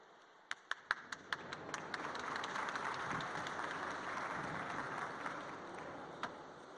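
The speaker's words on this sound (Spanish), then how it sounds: "les pido recibir con un fuerte aplauso a Jesús Telles" A conference audience applauds a speaker on sustainable urban lighting, starting with a few scattered, sharp individual claps before swelling into moderate, fairly distant steady applause that fades near the end.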